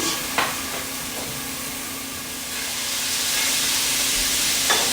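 A pound of sausage frying in a pan for a tater tot casserole, giving a continuous bright sizzle with a few faint scrapes and taps, growing slightly stronger and steady throughout.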